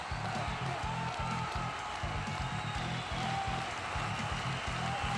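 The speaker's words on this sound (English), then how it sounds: "The crowd is going crazy." A crowd at a puppy football game cheers and claps in a steady, fairly distant roar, with rhythmic pulses beneath the sustained noise.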